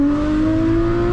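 Porsche GT4 fitted with a Fabspeed exhaust, a short loud steady engine drone with a slowly rising tone, heard close and alone.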